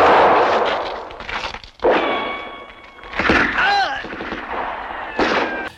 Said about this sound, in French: c'est là que la fusillade commence pour le plaisir de nos yeux ébahis